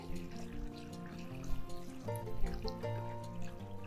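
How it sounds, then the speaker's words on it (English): Cold tap water runs and trickles into a stock pot of chicken, onion and other ingredients, a steady moderate pour with faint splashing, no voices. "I'll add water. Always use cold or tap water."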